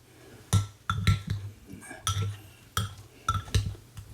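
A spoon stirring salt into beef stew with potatoes, knocking against the pot in a handful of sharp clinks and scrapes spread unevenly over a few seconds, close and fairly quiet.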